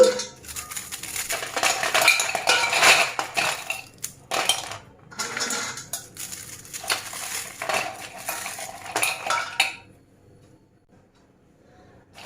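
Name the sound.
breaking crispy fried snacks into pieces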